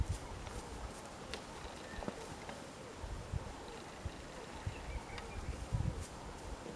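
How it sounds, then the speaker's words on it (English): A horse trots in circles during groundwork outdoors, its hoofbeats faint and irregular beneath wind and rustling. "Get him into his trot circles."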